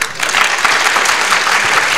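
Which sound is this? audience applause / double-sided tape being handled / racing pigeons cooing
audience applause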